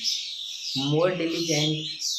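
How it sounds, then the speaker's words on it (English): Birds chirp outdoors in short, bright, high tweets that run steadily through the moment while someone talks over them in the foreground. "I am hearing lots of birds are chirping and sounds"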